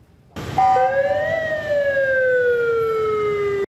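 A police car siren in Taoyuan starts abruptly and wails loud and close, rising and then falling slowly in one long continuous sweep before cutting off.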